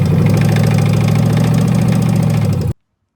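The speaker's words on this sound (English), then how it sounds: "a Junkyard LS engine on an engine stand where we found out it had just a little bit of drivetrain noise" A junkyard LS V8 runs on an engine stand, a loud, close, steady idle with even pulsing and a hint of drivetrain noise, then cuts off abruptly into silence.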